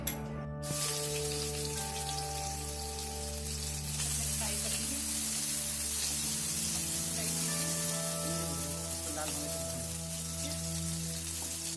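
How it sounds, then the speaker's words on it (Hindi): Onions frying in hot oil for biryani: a steady crackling sizzle like light rain, fairly even and close, with a faint hum underneath for the whole stretch. "तेल गरम हो गया, मैं इसमें प्याज डाल दूंगी"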